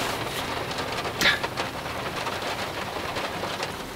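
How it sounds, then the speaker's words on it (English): Steady rain falls through the night around a camper van parked in Mexico, a continuous close hiss of drops on surfaces with a brief louder patter near the start. "God, it's been raining all night"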